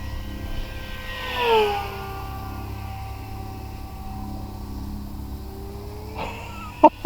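An E-flite V900 RC airplane sweeps past in a fast low pass, its electric motor whine rising and then dropping in pitch as it goes by, followed by a steady drone and a couple of sharp bumps near the end.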